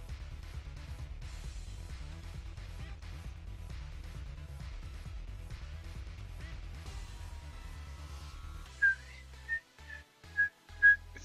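Thin, weak whistling tones come in near the end, four or five short breathy pitches rising in loudness over a steady background of low rumbling game music or noise.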